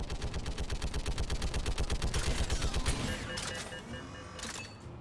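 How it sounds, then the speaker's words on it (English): Continuous .50 caliber machine gun fire in Mass Effect 3, a rapid, evenly spaced burst of loud shots held for several seconds before cutting off, leaving a quieter combat background with a few brief sharp effects. "Someone is just holding down the trigger on that 50."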